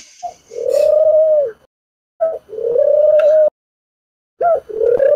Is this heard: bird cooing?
yes